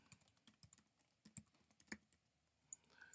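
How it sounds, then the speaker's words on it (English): Slow typing on a computer keyboard: sparse, uneven key clicks tapped one at a time with short pauses between bursts, quiet and close. "excuse my slow typing"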